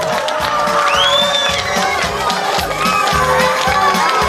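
Wedding guests clap in a steady rhythmic beat during a dance game, the claps loud and close amid lively crowd noise, shouts and whoops, with music underneath.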